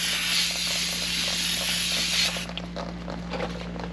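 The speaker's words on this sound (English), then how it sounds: "We're going to spray it off with a little brake clean." A steady brake cleaner aerosol spray hisses loudly for a couple of seconds on the front brakes of a 2013 Dodge Durango, then cuts off, leaving quieter fizzing and dripping sounds.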